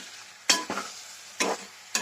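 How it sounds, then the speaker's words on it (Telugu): Yogurt being mixed into a biryani marinade with a spoon in a bowl, three short, wet scraping strokes spaced about a second apart, close and fairly quiet, with no talking. "పెరుగు వేసిన తర్వాత అంతా మిక్స్ చేసుకోవాలండి బాగా"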